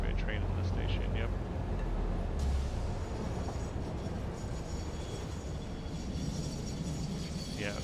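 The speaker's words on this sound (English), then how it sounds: "Must be a train in the station, yep." A train rumbles in a station in the video game Satisfactory, a low steady rolling drone with faint higher clanks, continuous at moderate level.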